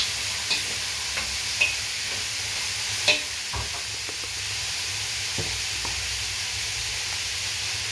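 Pansit noodles stir-frying in a hot pan give off a continuous loud sizzle and hiss, broken by faint scrapes and taps of the utensil.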